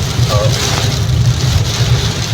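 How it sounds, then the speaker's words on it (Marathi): Steady, dense monsoon rain pouring down in Mumbai, a constant close hiss with a low rumbling undertone and a faint brief chirp early on. "मुंबईत पाऊस चालू झाला आहे"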